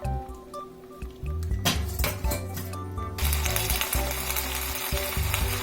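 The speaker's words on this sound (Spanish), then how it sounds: "se va a cocer un poco aquí con su propia grasita" Chicken pieces cook in a pan in their own rendered fat, a crackling sizzle with clinks of metal, under steady music that grows louder partway through.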